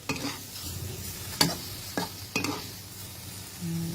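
Luffa gourd stir-fried in a pan, with scraping stirs and a steady background sizzle, sharp utensil clatters at about 1.4 and 2.4 seconds, and a low hum rising near the end.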